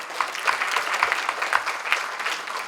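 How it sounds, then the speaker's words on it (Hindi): Loud, steady applause from an audience at a poetry gathering, greeting a young child poet; dense clapping runs continuously without pause and with no voices over it. "जोरदार तालियों से इस नन्हे से बच्चे का स्वागत करिए।"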